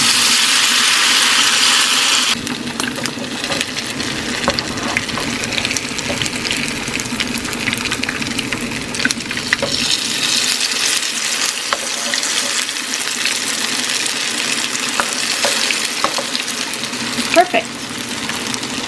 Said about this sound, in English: we're just going to spoon it into some medium hot oil